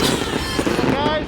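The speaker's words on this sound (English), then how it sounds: "I can't hear myself think right now because the speakers just went off and so did the fireworks" Fireworks bursting over a waterfront skyline near a pirate ship during a Gasparilla celebration, a dense continuous crackle and boom of explosions blended with loud amplified music and crowd noise.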